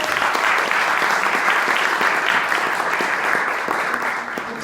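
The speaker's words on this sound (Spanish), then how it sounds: "pues un aplauso para nuestros panelistas" Audience at a 2018 copyright seminar applauding the panelists at the close of a session, a full, even wash of clapping from a room of people that slowly fades toward the end.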